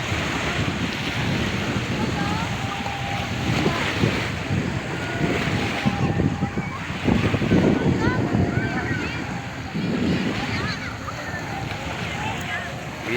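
Sea surf washing onto a beach, a steady broadband roar of breaking waves with wind buffeting the microphone, continuous throughout, with faint voices of people in the background.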